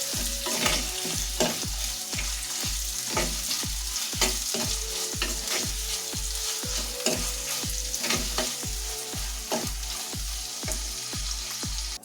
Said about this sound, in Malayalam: തക്കാളി, കുടംപുളി, വേപ്പില ഇവയെല്ലാം കൂടി കൂട്ടി ഇളക്കുക.